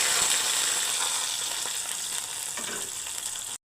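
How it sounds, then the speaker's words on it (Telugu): Spices for a tempering sizzle in hot oil for soft curd vada, a bright steady hiss with faint crackle heard up close and alone, cutting off abruptly at the end. "ఇప్పుడు వీటికి తాలింపు పెట్టేసుకుందామండి"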